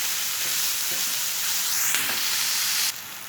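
Minced meat and onion frying in a pan, browned: a steady, close hissing sizzle with soft stirring scrapes, even and continuous, ending in a slight drop.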